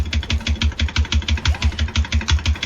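A generator runs in a video game with a steady, rhythmic chugging pulse, about five beats per second, loud and close, with no voices over it.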